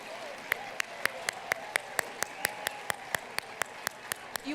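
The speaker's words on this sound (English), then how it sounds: "I want to honor that with one more applause to your 2024 Women of Influence Nanaimo Award nominees right now" Applause from the audience at the 2024 Women of Influence Nanaimo Awards gala, a faint, steady run of evenly spaced single claps repeating for several seconds.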